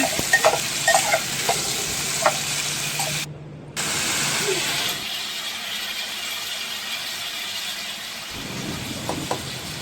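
Potato, cauliflower and peas fry in hot oil with turmeric and cumin, giving a steady close sizzle with occasional stirring scrapes, a brief drop-out partway through and then a quieter hiss.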